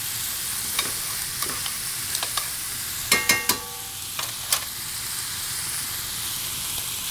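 Tomato paste toasts with onions and celery in a pan for braised short ribs. A constant dense sizzle and hiss is punctuated by a few sharp spatula clinks and scrapes near the middle, close and alone.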